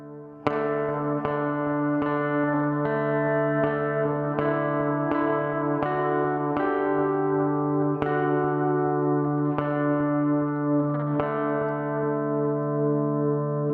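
A clean electric lead guitar plays the turn from a song, picking single notes one after another at a steady, unhurried pace. Each note rings out with echo and sustain, played alone and close.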